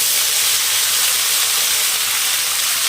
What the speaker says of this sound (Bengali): মশলাটা দিয়ে দেওয়ার পর এই তেলের সঙ্গে খুব ভালো করে কষিয়ে নিতে হবে